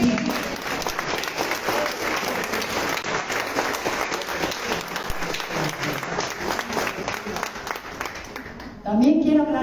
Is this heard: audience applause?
yes